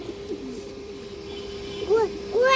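A pigeon of an old traditional breed, kept for sale, coos twice near the end in close, soft, throaty rolls. A steady faint hum runs underneath.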